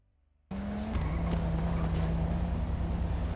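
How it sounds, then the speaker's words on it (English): A video game car's engine idles steadily after a sudden start, a constant low hum with a faint higher whine, running on without pause. "The judge's car is still on, so it might explode if you don't turn it off."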